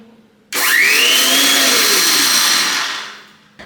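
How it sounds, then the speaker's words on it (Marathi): Mixer grinder spinning cooled sesame seeds in its jar, starting abruptly, running loud with a high whine for about two and a half seconds, then winding down before a second burst just begins. "त्याच मिक्सरच्या भांड्यात आता हे थंड झालेले तीळ घालूया आणि तिळाला पण मिक्सरमधून फिरून घ्यायचं आहे तर थोडं थोडं थांबून थांबून फिरवायचं आहे"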